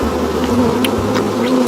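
A steady, close insect buzz hums without pause, like bees swarming nearby, with a few brief higher whines flitting past.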